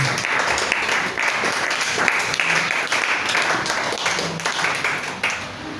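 A church congregation claps and applauds together, a loud, dense, sustained wash of hands close by, with faint voices mixed in.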